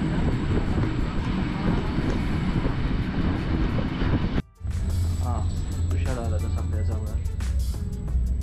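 Kjosfossen waterfall in Norway, beside the Myrdal-Flåm railway, roars as a loud, steady rush of water for several seconds, then drops out briefly before returning under people talking nearby.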